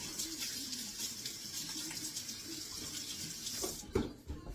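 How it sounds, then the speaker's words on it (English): A kitchen tap runs steadily while hands are washed during cooking, giving a close, continuous hiss of water into a sink, with brief splashing and a clunk as the flow stops near the end; no voices. "I just want to wash my hands again."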